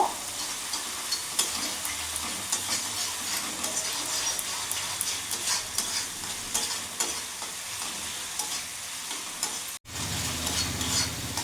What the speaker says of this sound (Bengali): মশলাটা কিছুক্ষণ কষিয়ে নেব।